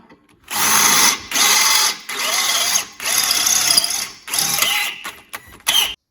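A power drill with a 10mm bit boring into a Land Rover Defender TD5 rear exhaust pipe, loud whining bursts starting and stopping about six times, each lasting roughly half a second to a second, with no voices.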